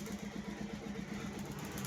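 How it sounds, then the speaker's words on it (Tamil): A motorcycle engine idles steadily after being started for a test, a low, even rumble with a regular pulsing throb and no voices. "சும்மா டெஸ்டிங்காக வண்டி ஸ்டார்ட் பண்ணுறோம்."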